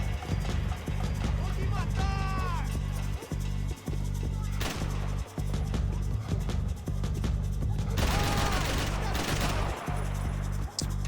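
Gunfire in the video game Max Payne 3: repeated sharp shots at a fairly regular pace over a steady low drone, with a brief tonal voice-like sound early on.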